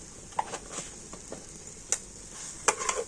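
Semolina and milk stirred into a stiff dough, a quiet continuous scraping with several soft spoon knocks and taps against the pot, faint and close, no voices.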